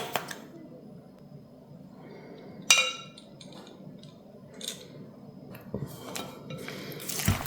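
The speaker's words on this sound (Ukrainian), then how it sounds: "Гарно все перемішуємо" Wet squishing and soft clinks of a utensil against a bowl while stirring peaches with spices for a cobbler, irregular and close, with quiet background.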